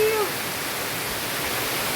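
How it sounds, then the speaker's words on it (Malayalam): Strong wind roars steadily through wet foliage with water spray falling, a loud, continuous broadband rush that barely varies in level, with a brief whistling tone at the very start. "എന്തൊരു കാറ്റ്!"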